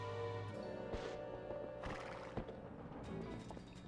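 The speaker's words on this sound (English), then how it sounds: "Then we gotta tame the horse." A horse in The Legend of Zelda: Twilight Princess HD gives a loud whinnying neigh over clip-clopping hooves, close and clear with no talk over it.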